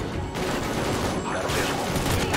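Dense, continuous gunfire fills the No Man's Land mission of Call of Duty: Ghosts, a loud, unbroken barrage of overlapping shots with no pauses.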